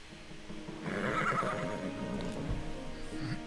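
A horse neighs in the fantasy video game Tiny Tina's Wonderlands, a drawn-out whinny with hoof clip-clops and a soft rain-like hiss behind it, moderately loud and alone without speech.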